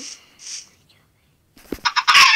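A chicken in a survival video game gives short squawking clucks in quick bursts, loud and close, after a brief quieter stretch.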